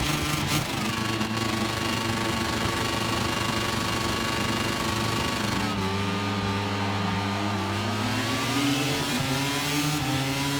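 Several racing motorcycles in the MotoGP 25 video game launch off the start at Mugello, a loud dense pack of engines rising in pitch as they accelerate, then shifting gear and climbing again, continuous with no talking.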